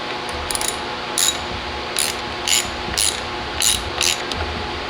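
Ratchet wrench tightening a hydraulic brake bolt on an e-bike, heard as about seven short, sharp clicking bursts spaced roughly half a second apart over a steady background hum.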